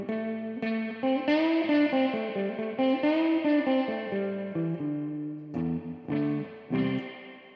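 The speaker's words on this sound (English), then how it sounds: "Now that's reminiscent of what you hear echoing down a pipe." Electric guitar played through a Fender reissue tube reverb unit: sustained chords and picked notes ring with a long, echoing reverb tail, loud and alone with no talking.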